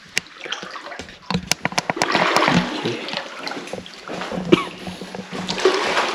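Feet wade through cold, knee-deep water entering a cave in Khammouane, Laos, giving close, loud sloshing splashes in an irregular stepping rhythm.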